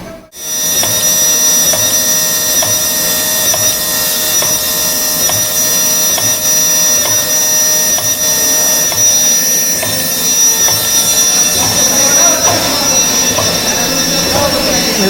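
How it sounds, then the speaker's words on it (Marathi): An automatic machine drilling holes runs loud and continuous with a steady mechanical whine and rumble throughout, and a voice speaks faintly beneath it. "बघा बोळ पाडते ऑटोमॅटिक"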